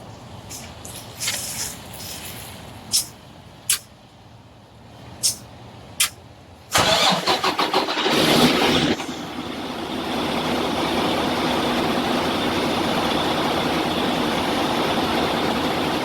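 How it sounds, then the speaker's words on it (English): A Freightliner Cascadia truck sits quietly with a few sharp clicks, then its engine cranks and catches with a loud burst, settling into a steady, near diesel idle that runs on alone. "Got the truck turned on."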